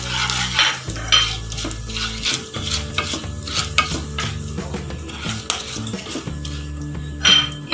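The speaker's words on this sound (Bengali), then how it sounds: "ফোড়নটা একটু ভেজে নিলাম।" Whole spices tempering in hot mustard oil in a wok, with a steady bright sizzle broken by sharp metallic clinks and scrapes of a spoon stirring against the pan, with music playing underneath throughout.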